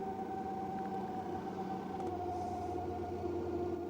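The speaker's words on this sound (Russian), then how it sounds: "А моторы-то довольно шумные на самом деле." A steady electric motor whine from the seat motors of a Lucid Gravity folding a seat forward hums at an even pitch, shifting tone slightly partway through, close and moderately loud with no talking.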